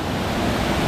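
Kil Kila waterfall in Madhya Pradesh, beside a Shiv temple among rocks, pours in a steady, loud broadband roar of rushing water, continuous and close with no voices over it.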